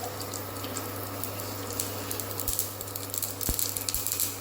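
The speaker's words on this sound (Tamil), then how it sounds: "எண்ணெய் நல்லா காஞ்சதும் கடுகை பொரிச்சு கொஞ்சம் போட்டுக்கலாம்." Mustard seeds spluttering in a spoonful of hot oil while tempering for plantain bajji, a steady sizzle with scattered small pops and crackles, a few sharper bursts near the end.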